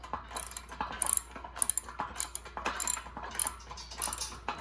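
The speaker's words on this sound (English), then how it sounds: "put a 17 on this side and then use my socket, a 17 socket for this side" Socket ratchet with a 17 mm socket tightening bolts while assembling an Olympic weight set, rapid close clicking in repeated short bursts with small metallic clinks between strokes.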